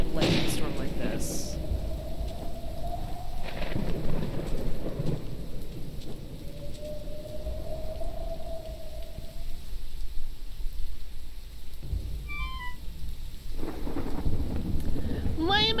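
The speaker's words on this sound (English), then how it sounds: "Burb was hatched during a lightning storm like this." Thunderstorm in the video game SongBird Symphony: steady heavy rain with rolling thunder rumbling throughout, a few sharper chirps near the end, with a voice talking over the storm.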